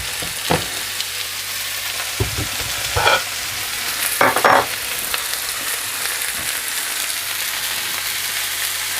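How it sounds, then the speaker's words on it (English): Masala lamb chops sizzle on a hot sizzler platter, a constant close hiss broken by a few bursts of sharper spitting and light knocks, with no talking. "my wonderful homemade masala chop sizzler platter"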